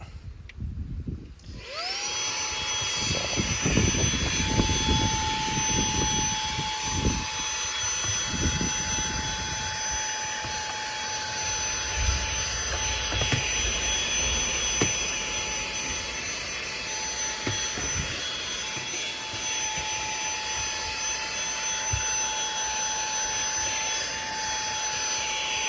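AUXIOTO portable vacuum cleaner switching on and running, a loud, close, steady whine with a high motor tone that stays constant for the rest of the stretch, with no speech.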